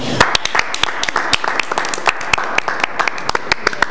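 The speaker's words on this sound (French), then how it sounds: "Ça s'applaudit." A television studio audience applauds on set, with sharp individual claps standing out from a steady bed of clapping for several seconds.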